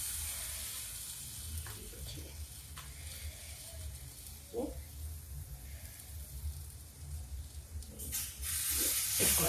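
Vegetable fritter pieces of bottle gourd and eggplant set on a dry, oil-free hot griddle over a low gas flame, giving a faint steady hiss with small crackles as each piece lands.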